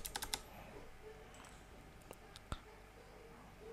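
A computer keyboard is tapped to enter an amount in school accounting software, a quick burst of quiet keystrokes at the start followed by a few sparse, faint clicks.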